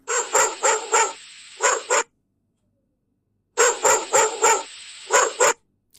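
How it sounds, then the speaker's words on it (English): Dog barking in two quick bursts of about five sharp barks each, close and loud, with a pause of silence between the groups. "dog"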